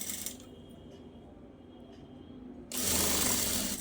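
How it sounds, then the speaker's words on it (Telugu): A sewing machine stitches piping cloth onto a blouse: a faint whirring run at first, then a louder, steady mechanical rattle of rapid stitching for the last second. "ఇలా నేను ఇప్పుడు ఏ విధంగా అయితే కొడుతున్నానో అదే విధంగా స్టిచ్ వేసుకుంటూ రండి"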